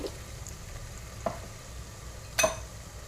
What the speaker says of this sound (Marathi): आणि शिमला मिरची आणि गाजर छान असं परतून घ्यायचंय आपल्याला